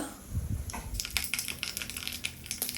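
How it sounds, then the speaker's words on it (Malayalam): Fenugreek and mustard seeds sputter in a tablespoon of hot oil for a mango yoghurt curry tempering. Close, dense crackling and popping build after the first second. "1 ടേബിൾ സ്പൂൺ എണ്ണയിൽ ഉലുവ ഇടുക, പിന്നെ കടുക് ഇടുക"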